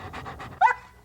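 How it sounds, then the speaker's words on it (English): A happy dog panting in quick, soft breathy bursts, with a brief louder whimpering or vocal note near the end, close by and alone. "For example, that's a happy dog."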